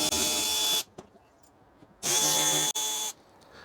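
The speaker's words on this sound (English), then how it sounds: "so I'll just use a ratchet to get those out of there." A ratchet drives out T15 Torx fender liner screws on a 2022 Chevy Bolt EUV, heard as two close, loud bursts of rapid clicking separated by a quiet pause.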